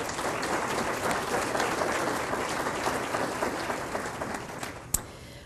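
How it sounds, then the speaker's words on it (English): An audience at a health speaker event applauds the sponsors, a dense, sustained wash of many hands clapping that slowly tapers, with a sharp knock near the end. "So please give a round of applause for all of our sponsors."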